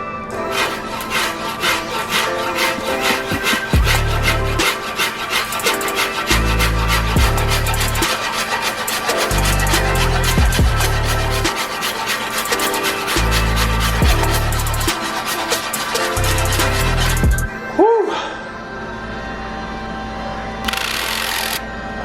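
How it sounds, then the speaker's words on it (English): A planer-type rasp shapes a birch longbow with bamboo backing, scraping in loud rhythmic strokes that come in bursts. It then stops briefly before a few last passes. "Benefits of using a planer type rasp."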